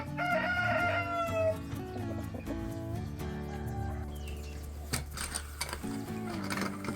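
A rooster crows nearby in a backyard poultry pen, a long, loud harmonic call held for over a second, followed by softer clucks and clattering sounds.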